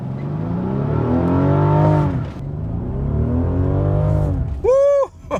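A 600 HP Rolls Royce Wraith launches hard with traction control off, its engine note rising in two long accelerating pulls through a gear change, loud and close, ending with a brief squeal.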